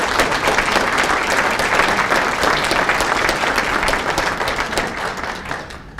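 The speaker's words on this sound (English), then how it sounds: "So I want to just give a round of applause to Bill, to Mary, and all the administrators." An audience at an alumni hall of fame induction ceremony gives a dense, continuous round of applause, many hands clapping at once, loud and steady, tapering slightly toward the end.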